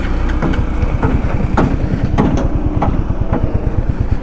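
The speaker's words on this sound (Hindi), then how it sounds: "ये कुछ इसका आइडियल साउंड है" A Hunter 350 motorcycle engine idles close by with a steady, fast pulsing thump, loud and even, joined by some wind buffeting on the microphone.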